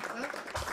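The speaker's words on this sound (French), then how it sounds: "vous pouvez l'applaudir très fort." A race crowd at a Bercy time-trial cycling event applauds the leader, the clapping a dense wash lasting under a second, with a voice speaking over it.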